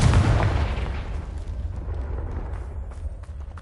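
Confringo fire spell exploding in the video game Hogwarts Legacy, a loud, heavy booming blast that rolls off into a fading rumble.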